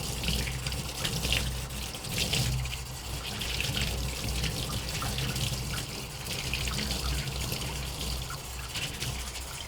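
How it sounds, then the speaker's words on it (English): Aquarium filter parts rinsed under a running tap, a continuous close splashing and trickling of water over plastic, steady throughout with no voices. "But definitely give everything a rinse. Give it a good rinse."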